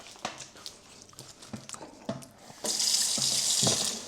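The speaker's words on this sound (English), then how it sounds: "I just need to fill my water up here." Tap water runs into a water bottle in a kitchen, a steady loud hiss of filling that starts partway through after some light clinks and handling knocks.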